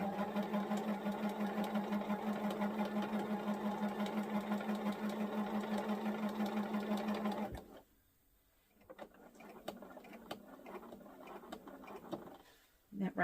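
Sewing machine stitching slowly through a work-in-progress, a steady mechanical chatter of rapid needle strokes for several seconds, then stopping and giving way to quiet handling noises and a few faint taps.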